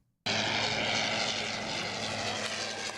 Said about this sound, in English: The plane flew for about 15 minutes by veteran pilot Ken Cassins, who said it felt good to be the one behind the rotary engine